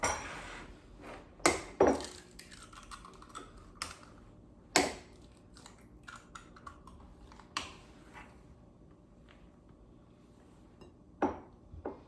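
Two eggs cracked into boxed cake mix batter while preparing for a Halloween party, heard as a few sharp, separate taps and cracks spaced over several seconds against a quiet kitchen background.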